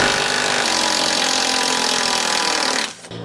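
A small Makita impact driver fitted with a 1/4-inch XPS impact socket backs a screw out of split, undrilled wood, giving a loud, steady rattling hammer that runs unbroken for nearly three seconds before cutting off abruptly.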